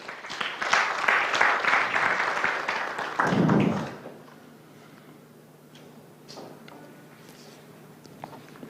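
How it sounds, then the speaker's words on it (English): An audience at a live ActionAid event at Naguru Teenage Center bursts into loud, dense applause welcoming a speaker, holding for several seconds before dropping away to a quiet room with scattered faint taps. "A round of applause."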